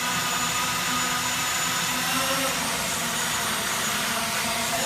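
The motors of a TILT R RC aircraft on a 4S battery hum steadily at roughly 18 to 20 percent throttle, giving a close, constant whine with no talking.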